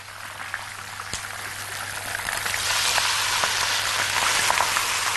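Onions added to a hot pot sizzle for chicken kabsa, a steady crackling hiss that swells louder after the first couple of seconds, close and continuous with scattered pops.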